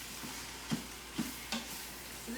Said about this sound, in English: Stir that all together.